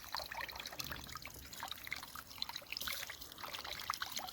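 Water pours and trickles steadily from a Fire Maple Antarcti camping kettle, a continuous splashing stream with light dribbling, close by and with no talking.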